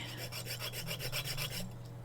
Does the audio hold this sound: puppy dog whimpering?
no